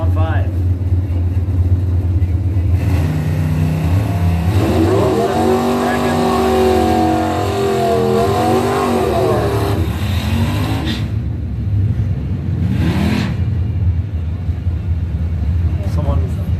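Engines roar and rev at a drag strip as race cars, including a corn-fed Mustang, launch and accelerate down the track, loud and close, with an announcer talking over much of the run.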